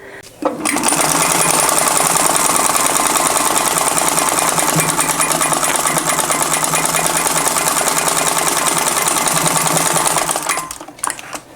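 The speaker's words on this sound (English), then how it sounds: "Okay, so I made 2 laps around with my buttonholer because of the fabric and everything." A sewing machine with a buttonholer attachment stitching buttonholes into a flannel blouse, running in one loud, continuous rapid mechanical chatter for about ten seconds before stopping.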